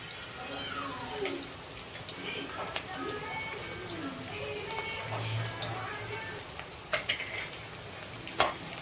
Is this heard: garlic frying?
yes